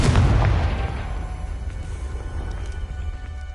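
A Confringo fire spell bursts in Hogwarts Legacy with a loud booming blast that rolls off into a long, rumbling decay, heavy low-end thunder fading over a few seconds.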